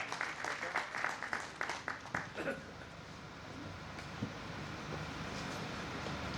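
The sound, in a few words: audience applause welcoming a guest onto the stage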